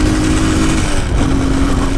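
A supermoto motorcycle engine runs steadily up close, a continuous buzzing drone holding a near-constant pitch with a slight shift partway through, loud and alone with no talk.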